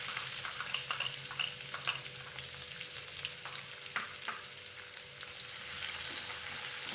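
Onion and cumin fry in a pan for restaurant-style dal tadka, a soft continuous sizzle with light stirring scrapes and clicks, fairly quiet and close.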